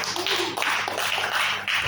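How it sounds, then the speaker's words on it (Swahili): A church congregation claps for a minister in a steady, dense burst of applause that stays loud and close throughout, with no voices over it. "Bwana makofi ya uchoyo bwana."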